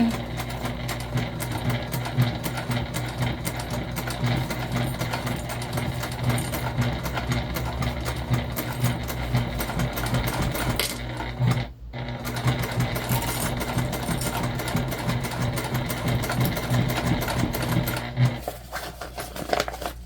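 A sewing machine stitches a fabric waist pack with self-adhesive stabilizer, running steadily and loud for most of the stretch with a brief pause midway and a stop near the end.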